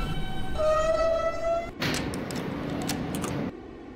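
An R160A subway train runs on the R line through New York in the OpenBVE simulator. A tone plays first, then the train hums and rattles with some hissing bursts, and it settles quieter at the end.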